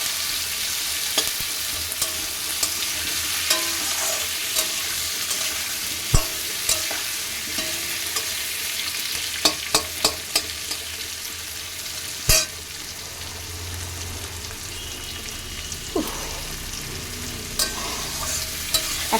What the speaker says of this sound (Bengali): পেঁয়াজ কুচিটা একটু একটু ভেজে নেব